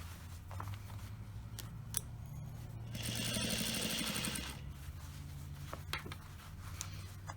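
A sewing machine stitches a denim jean hem in one short whirring run of about a second and a half, close by and surrounded by quiet taps and fabric handling.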